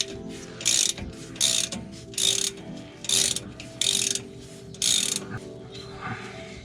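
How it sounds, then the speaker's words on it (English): Ratchet clicking in six quick bursts while loosening the differential drain plug on a Ford F-150 with a rear electronic locking diff, each burst a crisp, close mechanical rattle separated by brief pauses, no talking. "once you break it loose, you should be able to just use a ratchet"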